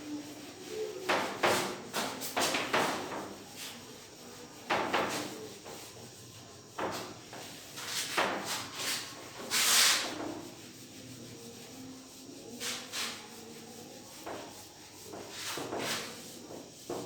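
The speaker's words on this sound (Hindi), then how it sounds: "फिर हम इस क्वेश्चन को रब करेंगे।" A written question being rubbed off a classroom board during a physics lesson, heard as repeated bursts of scraping strokes separated by short quiet gaps.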